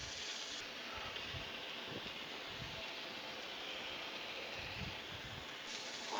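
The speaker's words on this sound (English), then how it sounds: "Got that sizzle going on." A steady, broad hiss of bacon cheeseburgers sizzling on a hot Blackstone griddle, continuous and even throughout with no pauses.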